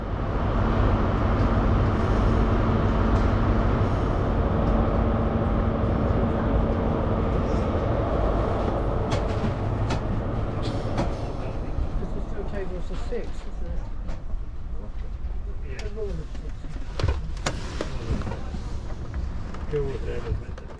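An HST high-speed train departing Plymouth onto the Cornish main line rumbles and clatters steadily at close range, a loud continuous roar with a few sharper knocks as it rolls along.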